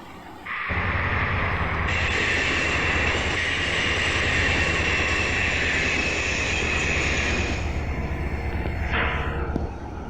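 A train in the video game GTA San Andreas rumbles along loudly and steadily, a constant roar with a bright high hum over a deep low drone, with no talking.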